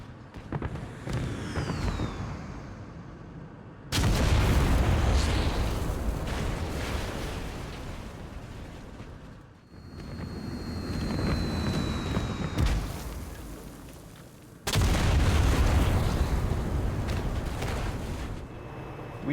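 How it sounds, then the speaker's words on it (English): Bombs dropped from an F-84 on a base strike in the video game IL-2 Korea, landing in several heavy booming blasts with rumbling tails over continuous aircraft engine drone. "I see an explosion. Looks like we got a good hit."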